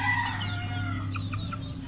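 A young Boston gamefowl rooster crows in a short, clear call partway through, against a steady low hum and no talk.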